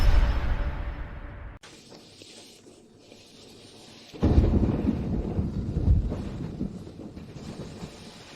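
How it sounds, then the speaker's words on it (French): Heavy rain with rumbling thunder in a dramatized story, a booming roll at the start that fades, a sudden quiet stretch, then a dense loud downpour and rumble returning. "Il pleut tellement fort."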